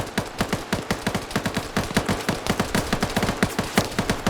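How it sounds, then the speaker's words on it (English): Sustained automatic gunfire in a video game, dense rhythmic volleys of sharp shots firing continuously and loudly throughout, with overlapping bursts from more than one weapon. "More shots coming down range."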